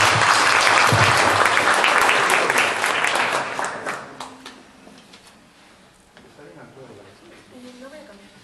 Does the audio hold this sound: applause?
yes